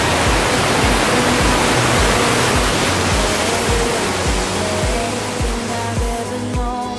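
Rushing stream and waterfall in Eaton Canyon, a loud, steady roar of tumbling water close by that fills the whole stretch without a break, with no talking.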